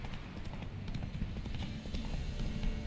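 Steady clip-clop of horse hooves trotting in the video game The Witcher 3: Wild Hunt, a continuous rhythmic clatter at moderate loudness with no talking.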